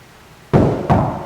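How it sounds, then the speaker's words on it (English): Three sharp knocks on a hard surface, evenly spaced and close by, with quiet pauses between them. "Can you knock 3 times for us?"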